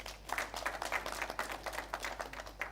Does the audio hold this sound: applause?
yes